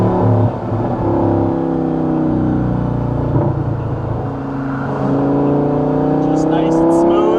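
An Audi R8 V10 with gated valvetronic exhaust revs steadily toward redline at partial throttle, a sustained, rising engine note with close, smooth harmonics throughout.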